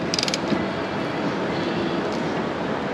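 A wrench turns a ball joint nut on MG TD steering, giving a brief ratcheting creak at the start followed by faint mechanical grinding and scraping, close and moderately quiet.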